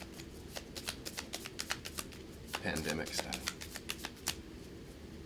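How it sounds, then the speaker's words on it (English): Cards from the Kingdom Death: Monster hit location deck being shuffled at a tabletop game demo, a run of quick riffling snaps and a brief rolling bridge flutter, with a voice speaking briefly over them. "we shuffle the monster's hit location discard back into its deck"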